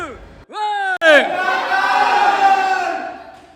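Loud, drawn-out group shouting and cheering from a packed gym crowd during a workout session, voices rising together into a sustained roar after a couple of short sharp calls.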